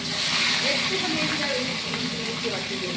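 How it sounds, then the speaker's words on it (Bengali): Hilsa fish frying lightly in oil for a poppy-seed and mustard preparation, a steady dense sizzle and hiss running close and loud throughout, with faint voices over it. "মাছটা আমি ভেজে নিচ্ছি।"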